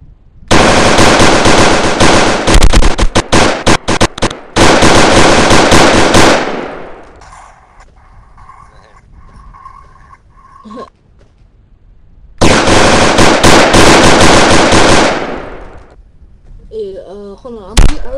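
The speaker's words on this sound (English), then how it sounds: "Who's shooting me?" Sustained automatic gunfire in a modded multiplayer video game, loud continuous bursts for several seconds, a pause with faint background game sounds, then another long loud burst.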